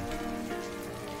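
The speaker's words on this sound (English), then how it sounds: "She's sat out in the rain." Steady rain falls in the TV drama Grey's Anatomy, a dense, continuous patter on surfaces with a faint tonal hum underneath, close and unbroken for the whole moment with no voices.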